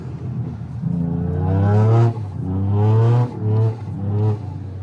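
Toyota GR Yaris on snow, its engine revving up and easing off in repeated surges, with a faint turbo whistle riding on top; close and loud throughout.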